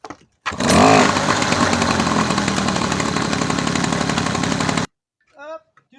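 A small engine fitted with a cheap pull-cord recoil starter fires up after a yank and runs at a loud, rough, buzzing idle for about four seconds, then cuts out abruptly, followed by a brief voice.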